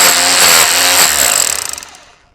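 A Bosch Bulldog Xtreme rotary hammer fitted with a chisel runs in a loud, rapid hammering buzz up close, then spins down, its pulses slowing and fading out over about a second.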